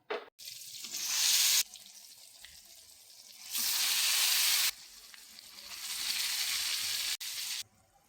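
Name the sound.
maswadi pieces frying in hot oil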